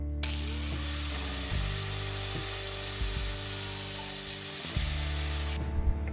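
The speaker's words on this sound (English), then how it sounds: "So cut that out with an angle grinder." An angle grinder cutting through a roofing nail clamped in a vise, a steady high-pitched whine that shifts in tone as the disc bites, moderately loud and close, then spinning down.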